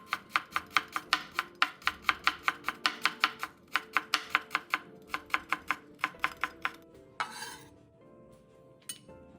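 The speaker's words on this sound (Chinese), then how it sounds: "生姜切成细丝" A kitchen knife chops ginger into fine shreds on a cutting board, a fast run of sharp, evenly spaced taps up close that slows and thins out near the end.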